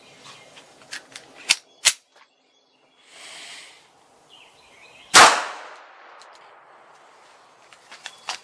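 A 9mm pistol loaded with .380 rounds fires a single loud, sharp shot with a ringing decay, preceded by a few metallic clicks and handling clacks from a cycling failure to eject, with more faint clicks afterward.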